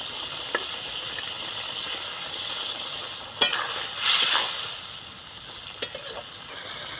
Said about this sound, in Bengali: ভেজে রাখা মাছ মরলা তো দিয়ে দিচ্ছি